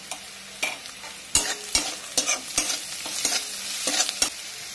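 Onion and capsicum frying in a pan while a spatula scrapes through them in regular strokes, each scrape sharp and close over a low steady sizzle.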